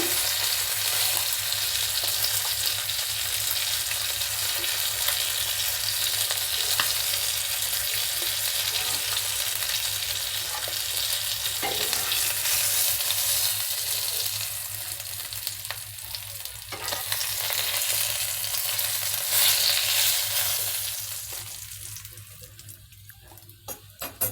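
Fish pieces fry in hot oil with a loud, steady sizzle that holds for a long stretch, gets patchier near the end, then fades lower.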